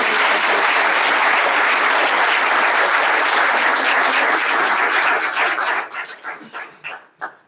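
Loud, sustained applause from an audience at a community college Black History Month program, steady clapping that thins out into a few scattered claps at the end.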